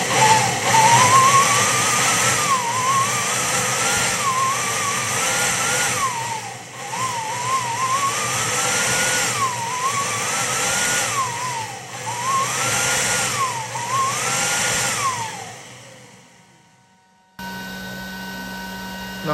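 A turbocharged Honda Vario scooter engine running on a water and methanol fuel mix, boosted to about 6 PSI, drones steadily up close with a whining turbo tone that rises and falls in repeated swells before dropping away.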